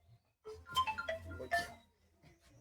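A mobile phone ringtone plays indoors, a short bright melodic burst of tones that rises, pauses and sounds again, fairly clear with a quiet room behind it.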